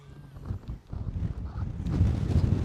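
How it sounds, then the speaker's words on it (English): Wind rumbles against the microphone, growing stronger and steadier toward the end, with faint indistinct sounds underneath. "that wind's coming in now"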